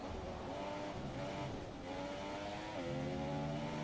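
Race car engines in the F1 2017 game at Bahrain, a continuous high droning whine with shifting pitch as cars run down the back straight, steady and moderately loud.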